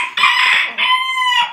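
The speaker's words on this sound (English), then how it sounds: "Chicken." A farm chicken crows loudly and close by in two long, strained bursts, with faint background chatter.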